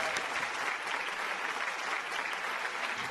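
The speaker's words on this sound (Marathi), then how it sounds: "एकदा जोरदार टाळ्या झाल्या पाहिजेत राहुल सक्सेनासाठी." A studio audience at a televised singing competition claps in a dense, sustained round of applause, loud and even throughout with no voices standing out.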